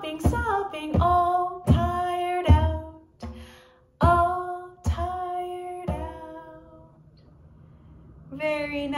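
A small hand drum tapped to mimic a frog hopping, with a few clear strikes in short bursts and pauses between them, alongside what looks like tonal singing or talking.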